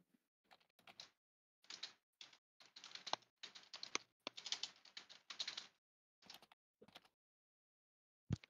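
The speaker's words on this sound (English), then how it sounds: "Ooh, the typing furiously is really building the suspense." Fast, furious typing on a computer keyboard during an online game campaign session, with dense bursts of clattering keystrokes separated by short pauses and a thump at the end, heard alone and fairly close.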